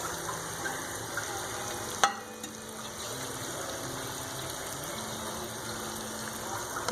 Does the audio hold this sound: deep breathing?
no